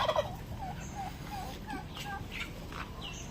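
Turkeys gobble on a poultry farm that keeps heritage and native birds, with scattered bursts of gobbling and clucking at a moderate distance over a steady barnyard hum.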